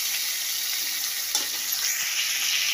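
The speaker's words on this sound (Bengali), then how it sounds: "দেখো মাছ ভাজা করছি, মাছগুলোকে ভালো করে ভেজে নিই।" Pieces of hilsa fish frying in hot oil: a steady, close, bright sizzle and hiss continues throughout, with a faint stir or scrape partway through.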